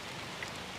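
Light rain falling outdoors on a coast with an island in the distance, a soft, even hiss of drops that stays faint and constant throughout, with no talking.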